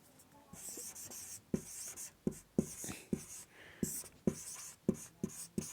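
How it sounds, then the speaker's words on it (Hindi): A pen writes on paper during a Hindi class lesson, giving close scratchy strokes in irregular bursts with distinct taps between words. No one speaks. "तो मैं यहाँ लिख देता हूँ"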